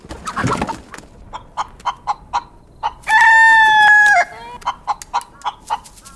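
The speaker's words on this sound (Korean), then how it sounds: "문이 열리자마자 튀어나오는 닭 한 마리." A chicken clucks in short repeated bursts, then lets out a long loud crow before the rhythmic clucking resumes, close and clear.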